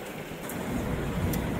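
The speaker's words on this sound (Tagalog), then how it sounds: "Ayan walang tigil ang ulan." Steady rain falling without pause, a continuous broadband hiss and patter that swells slightly over its short length, with no voices.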